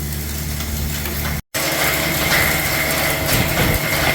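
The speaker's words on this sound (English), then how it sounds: "So we have some water going into the wet pan mill or cone mill" A wet pan mill (cone mill) turns as it grinds ore with water, giving a continuous mechanical rumble with grinding and clanking, broken by a split-second gap.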